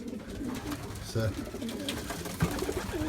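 Pigeons coo softly in a loft, low throaty burbling calls near and far, under a voice speaking against a faint background hum.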